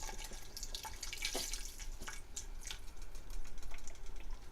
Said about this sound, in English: Now I'm going to add my veggie broth.